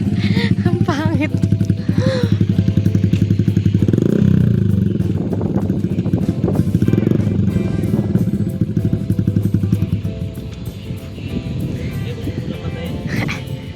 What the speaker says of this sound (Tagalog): Kasi bawal po yung maingay na motor.